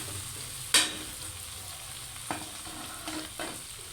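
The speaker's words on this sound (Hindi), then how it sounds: "इसे अच्छे से मिक्स कर लेंगे, नीचे ना लगे, इस बात का ध्यान रखिएगा।" Chicken and okra mixture stirred in a pan, with a steady low sizzle and a few scraping strokes of the spoon, one sharp clatter early on and softer scrapes later.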